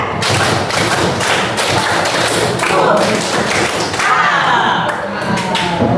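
A classroom of students claps together in a counted one, two, three pattern, producing a dense, continuous run of thudding claps and taps at close range with a faint murmur of voices underneath.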